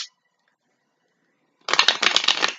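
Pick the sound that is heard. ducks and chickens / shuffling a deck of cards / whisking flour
shuffling a deck of cards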